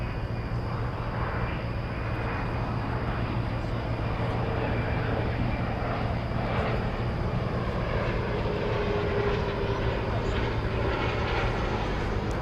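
A CRJ regional jet passes overhead near DFW Airport, a steady broad roar with a faint high whine that stays fairly even over a low background hum.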